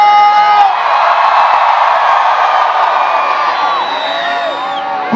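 A large crowd at a concert yells and cheers in one sustained, loud roar of many voices, slowly fading toward the end.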